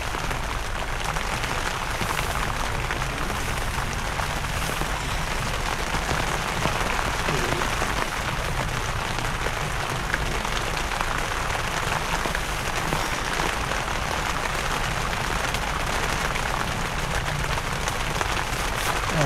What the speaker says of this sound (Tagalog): Nakaka-relax yung patak ng ulan.